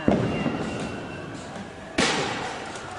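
A firecracker launched by police into a protest crowd in Portland bursts with two sharp, loud bangs about two seconds apart over steady crowd noise.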